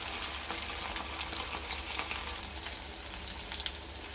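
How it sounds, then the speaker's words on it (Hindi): Chicken pieces fry in oil over a high flame, giving a soft, steady crackling sizzle with faint popping throughout and no talking. "आप इसे पहले हाई फ्लेम पर फ्राई कीजिएगा 2 मिनट तक"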